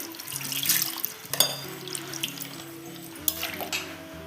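Water from a tap runs and splashes into a thick batter being mixed for Mangalore-style cucumber huli, a steady, close trickle with small drips and clinks of utensils.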